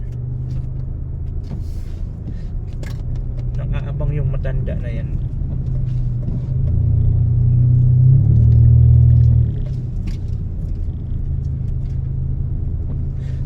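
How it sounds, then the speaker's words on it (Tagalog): A car rumbling along a road, a steady low engine drone with a heavier surge in the middle, while someone talks over it. "nalagabugin na naman itong sasakyan natin"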